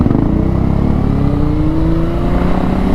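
Honda CBR 600RR motorcycle engine running loud and steady close up, a continuous droning rev with a slowly rising pitch, no talking.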